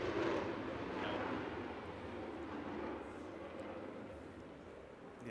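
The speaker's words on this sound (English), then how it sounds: "So we're putting up with a lot of jet noise right now." An F-15 Eagle jet flies overhead, its broad, loud roar filling the whole clip and fading slowly as it passes.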